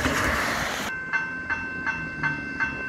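A Doodlebug railmotor on wet tracks near Tyabb Station in the rain, a broad rushing noise that cuts off into a row of regular, evenly spaced tonal pulses.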